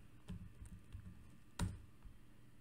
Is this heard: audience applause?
no